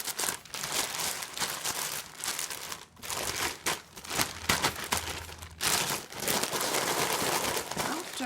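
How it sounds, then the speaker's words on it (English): Plastic bag holding udon noodle dough is rubbed and kneaded by hand, giving continuous close crinkling and crumpling with brief pauses, fairly quiet and alone. "You rub the inside of the plastic bag to remove that stuck bits."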